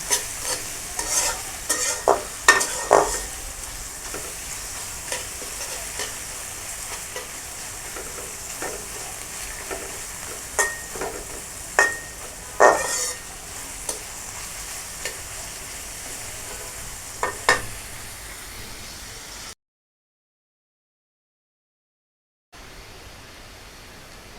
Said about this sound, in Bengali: তেল দিয়ে দিই তেল দিয়ে পেঁয়াজটা আমি তো বেশি ভাজার দরকার নেই